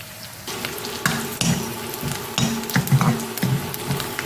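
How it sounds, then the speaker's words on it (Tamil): Onions sautéing in a pan for idly kurma, frying with a continuous close sizzle broken by repeated scraping stir strokes and occasional knocks of the spatula against the pan. "இந்த அளவுக்கு வெங்காயம் வதங்கினா போதும்"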